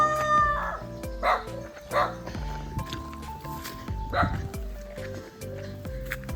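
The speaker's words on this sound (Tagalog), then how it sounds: "bakit may aso na? Dati walang aso. Ngayon may aso na." A dog barks and yips several times in short bursts, fairly close, over music with people talking.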